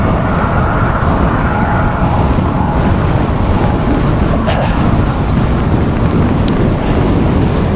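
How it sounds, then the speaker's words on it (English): Strong headwind buffets the microphone during a ride on a Cervelo bike, a loud, constant, roaring rush with no breaks and no voices. "Wind is really strong here."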